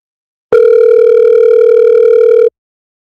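A steady telephone ringback tone holds clear and loud for about two seconds, one unbroken electronic tone with a faint overtone above, before the line cuts to silence and the call goes to voicemail.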